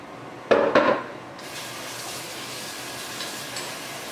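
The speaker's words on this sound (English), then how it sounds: "So now I'm going to use fresh water and just salt in this pot." Fresh water runs into a kitchen cooking pot for mashed potatoes, starting with a couple of sharp clanks before a steady, moderate splashing stream continues, with no voices.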